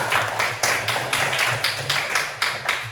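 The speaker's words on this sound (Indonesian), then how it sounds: "Tepuk tangan Aisyah." Classroom applause for a student who answered a question, a group of pupils clapping in a short, uneven burst of close, fairly loud claps with a faint low hum underneath.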